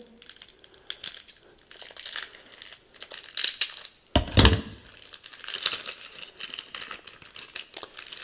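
Auction packages being opened from an unboxing: close crinkling and rustling of wrapping material in uneven bursts, with one sharp crack near the middle and no talking.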